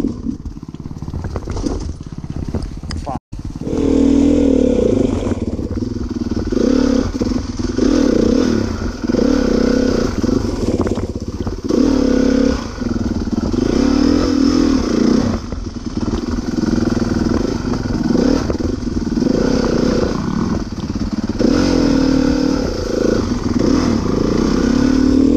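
Dirt bike engine idling and puttering as the rider rolls down a hill on an Arkansas mountain trail, a steady loud motor drone with low pulsing, clattering gear and gravel scrapes, briefly cutting out early before running continuously.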